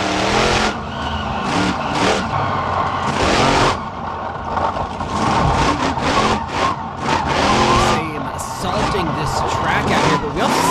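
Monster truck sliding into a smoky donut across asphalt at Bristol Motor Speedway, engine roaring and revving loudly and continuously with tire noise, under a commentator's talk and crowd din.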